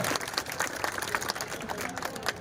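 Crowd at a mass wedding ceremony in Velan, Kodinar, clapping in steady, dense applause with scattered individual claps standing out.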